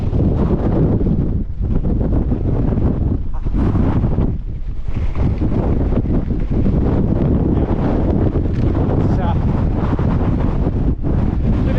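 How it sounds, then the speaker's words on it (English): A cold crosswind batters the microphone on an exposed Yorkshire hillside, a loud, continuous roaring rumble that barely eases for a moment here and there. "Quite a cold crosswind."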